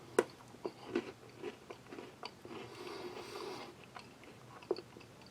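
Crisp bites and crunchy chewing of a sweet Taiwan army Type B ration biscuit with bits of dried fruit, several sharp snaps followed by softer chewing, close to the microphone and with no talk.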